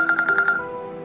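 Mobile phone ringtone for an incoming call, five quick bright electronic pulses in a rapid rhythm that then fade into a sustained tone, loud and close with no talking.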